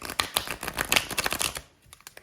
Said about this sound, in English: I forgot to check actually how this deck shuffles, so I'm gonna do it now.